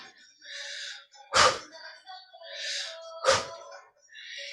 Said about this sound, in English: Hear my breathing.